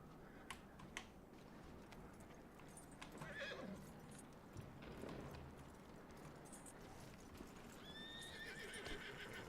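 Horse hooves clip-clop steadily in a western video game, close and continuous, with a whinny, a few sharp clicks and a faint high whistle over a busy outdoor background.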